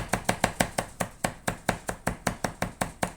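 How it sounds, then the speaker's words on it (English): A kitchen knife chops fresh herbs on a cutting board for chimichurri, a steady run of about seventeen crisp, evenly spaced knocks of the blade hitting the board, close and clear with no talk. "just start chopping that blade through there"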